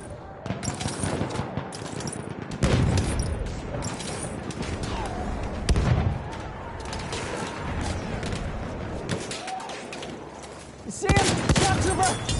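Enemy machine gun fire in the video game Battlefield 1, loud sustained bursts of rapid automatic shots with a dense battlefield din underneath and heavier crashes at intervals.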